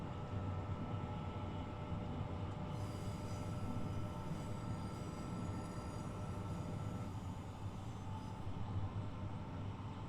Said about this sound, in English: Got a little bit of the the rattle there going along the track